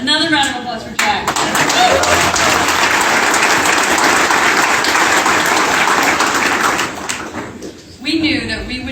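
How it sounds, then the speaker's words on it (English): Audience applause at the YorkTowne Hotel ribbon cutting ceremony, a dense, loud burst of clapping lasting about six seconds, with speech briefly before and after. "Another round of applause for Jack."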